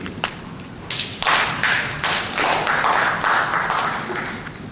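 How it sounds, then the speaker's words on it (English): An audience at a San Antonio mayoral forum breaks into applause, a scatter of claps swelling into steady clapping that holds and slowly fades. "That's our first applause for a question tonight."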